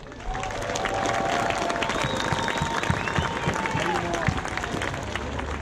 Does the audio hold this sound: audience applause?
yes